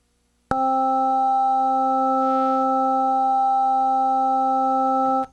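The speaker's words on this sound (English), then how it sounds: "has a little bit of that rotary speaker sort of phasing sound." A synth patch with resonance raised holds one sustained tone from a sudden start to an abrupt cutoff, rich in steady harmonics with a faint rotary-speaker-like shimmer.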